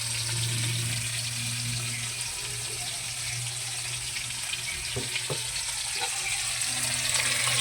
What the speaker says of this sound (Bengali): দুই চার মিনিট আলুটাকে ভেজে নেব